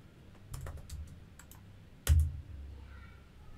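Typing a command on a computer keyboard: a few soft scattered key clicks followed by one louder clack, quiet and close in an otherwise still room.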